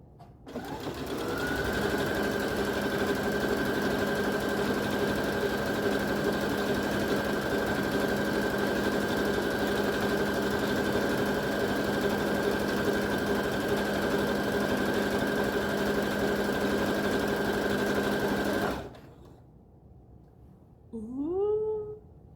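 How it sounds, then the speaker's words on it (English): A sewing machine stitches embroidery around a dress in one long, steady, close whirring run of about eighteen seconds, then stops, leaving brief faint sounds. "Sewing that embroidery all the way around on this"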